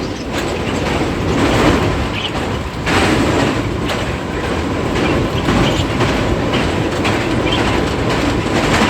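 The Green Line Express passenger train crosses the Chenab River bridge in Pakistan, a loud, steady rumble with rhythmic clickety-clack of wheels on the rails carried throughout, close and continuous with no talking.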